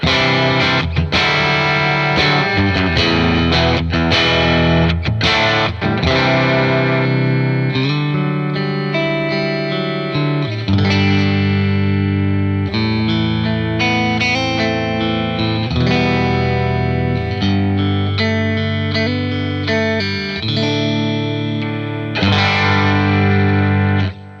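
An electric guitar through a Dr. Z Z-80 amp and a Marshall 1982B cabinet plays loud, driven distorted riffs and chords with effects, continuous and close for the whole stretch, with no talking.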